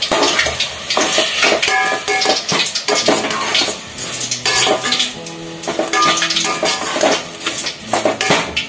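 In a pan for banana flower curry, a spoon stirs and scrapes busily with constant metallic clatter and knocks, over a soft background sizzle of sautéing, heard close up without talking.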